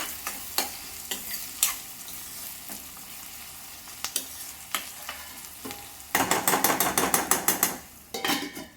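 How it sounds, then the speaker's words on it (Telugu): Curry leaves sizzling in hot oil for a curry, with a soft crackling hiss broken by sharp scraping and clicking stirs, then a denser burst of rapid spatters near the end. "తర్వాత కరివేపాకు వేస్తున్నాను."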